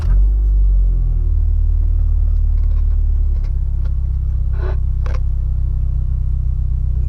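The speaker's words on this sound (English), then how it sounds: "let me start my car one more time" A car starts up with a deep, loud engine rumble, then settles into a steady low idle heard from inside, with a few faint clicks and taps as it runs.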